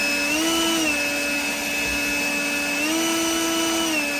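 A DEWALT 20V MAX XR or GREENWORKS 40V cordless leaf blower runs steadily with a loud, continuous high whine and airy rush, its pitch dipping and rising slightly as the speed shifts, with no talk.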